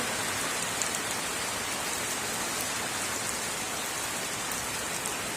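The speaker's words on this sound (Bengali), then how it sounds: "আমাদের এখানে প্রচুর বৃষ্টি নেমে গেছে, একটু বৃষ্টি পড়ছে।" Heavy rain pours down in a steady, dense hiss of drops striking surfaces, constant and close throughout with no voices.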